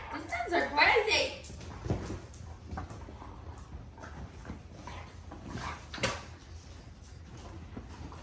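Several pet dogs play roughly at home and give a small pet monkey a scare, letting out short whimpers and yelps amid scuffling and bumps. A person talks over the close, uneven noise.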